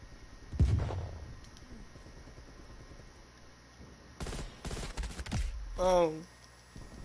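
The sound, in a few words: gunfire in Call of Duty Cold War video game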